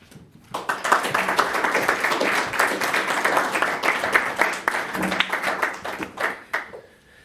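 An audience at a talk on carbon markets breaks into applause, a dense run of clapping that swells quickly, holds steady for several seconds, then thins out and fades.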